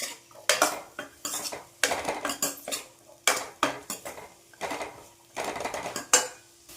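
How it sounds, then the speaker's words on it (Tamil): A spoon scrapes and clinks against a pan in a quick, uneven rhythm while chopped bitter gourd sautés in oil with onions, close up and with no talk. "எண்ணெயிலே நல்லா பாவக்காய் வதங்கட்டும்."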